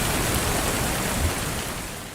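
Steady rain sound effect used as a podcast segment intro, a dense, even hiss of rainfall on a surface with a faint low rumble, holding at a constant level throughout without any voices.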